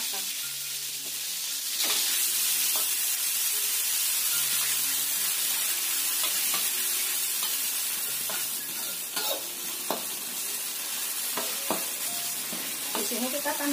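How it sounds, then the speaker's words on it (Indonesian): Ground spice paste sautéing in about three tablespoons of hot oil previously used to fry tofu, a steady close sizzle and crackle with occasional spoon stirs and scrapes in the pan. "Kemudian kita tumis bumbu halus."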